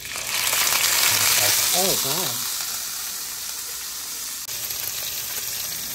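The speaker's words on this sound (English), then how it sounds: "Once this gets boiling hot, okay. And the steaks are boiling." Steaks sear in a very hot pan with a loud, steady sizzle throughout, while a brief exclamation from a voice is heard early on.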